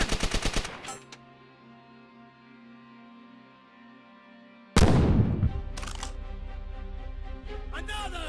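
In Call of Duty: Black Ops Project Nova, played with World at War sound effects, a quick burst of rapid gunfire is followed by a lull, then a loud grenade blast and more shots close by.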